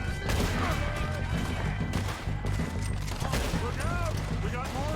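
Rapid gunfire in the Western video game Red Dead Redemption 2, a dense fusillade of overlapping shots and ricochets at close range, loud and continuous with game dialogue and shouting mixed in.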